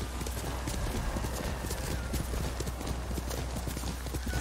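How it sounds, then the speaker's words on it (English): Horse hooves clip-clop steadily and continuously at a close, even pace as a horse is ridden in the samurai video game Ghost of Tsushima, with faint in-game ambience underneath. "You're a good horse, Nobu."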